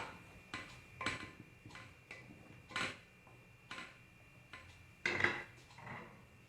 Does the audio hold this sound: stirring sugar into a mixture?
yes